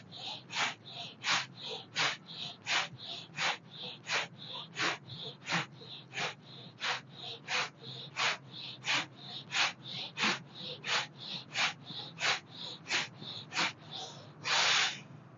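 Rapid pranayama breathing through the nose, with about thirty sharp, evenly spaced exhalations in quick succession, close and loud, ending in a longer breath.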